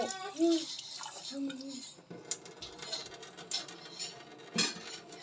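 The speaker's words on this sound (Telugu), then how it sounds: "ఈ సేమియాల్ని వడగట్టుకోవాలి, వాటర్ ఉండకుండా వడగట్టుకోవాలి." Boiled vermicelli being drained through a strainer into a pan, with metallic clinks of the pot and utensils, trickling and dripping water, and someone talking over the first part.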